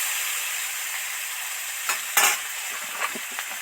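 Snake gourd frying in oil in a pan, a steady close sizzle broken by a few scraping stirs of a spatula.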